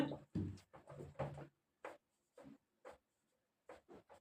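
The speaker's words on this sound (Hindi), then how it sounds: "तो यहाँ पर लिखेंगे" A pen scratches out a trigonometry proof on paper, quick bursts of close, dry scribbling followed by short separate strokes with pauses between them.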